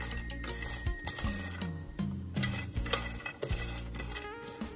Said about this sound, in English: when you're roasting your spices, make sure you stir it, mix it.